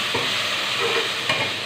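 Ginger garlic paste is stirred into golden fried onions in a pan for chicken tehri, with a continuous close sizzle and a few soft scraping strokes. No one speaks.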